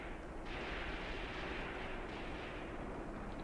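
Tank cannon fire in a WWII tactical battle game set around Kharkov in 1942, heard as a sustained roaring, rumbling blast that swells and holds loudly throughout.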